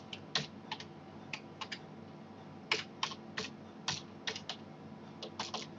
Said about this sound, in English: type in a name there